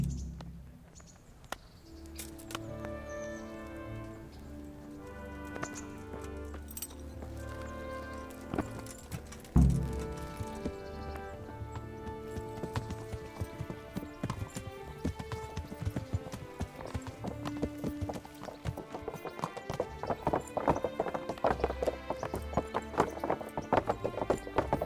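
Horse hooves clip-clop steadily while riding in the medieval role-playing game Kingdom Come: Deliverance, set beneath a continuous musical score with faint insect chirps, the rhythmic hoofbeats growing busier and louder toward the end.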